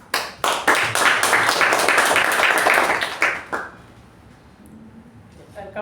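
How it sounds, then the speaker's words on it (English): A room of attendees at a Toastmasters meeting bursts into loud, close applause that lasts about three seconds, then thins to a few scattered claps and fades into quiet. "Huge round of applause"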